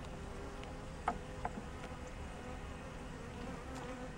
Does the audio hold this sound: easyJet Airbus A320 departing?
no